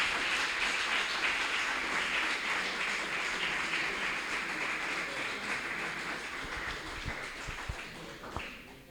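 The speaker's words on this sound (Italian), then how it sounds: "nel ringraziare facciamo un applauso" An audience at a talk applauds the speakers, a dense, even spread of clapping that slowly thins toward the end, with a few louder individual claps.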